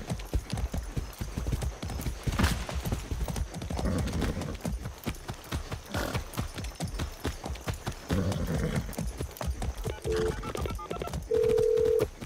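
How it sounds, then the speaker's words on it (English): Steady rhythmic clip-clop of hooves at a fast gallop in the video game Far Cry 6, continuous throughout, with a few short electronic tones near the end. "Let's go, horse. Go!"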